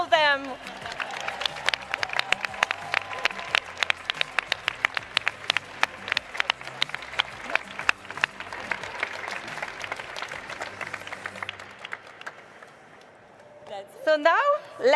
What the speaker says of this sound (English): So a big round of applause to all them.